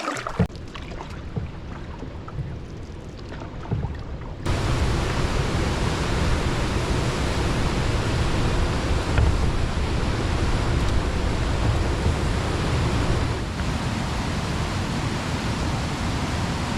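Rushing water at Frank Falls, a waterfall in Temagami, roaring in a steady, dense wash; it starts fainter and swells to a louder, constant broadband rush after a few seconds, with no voices.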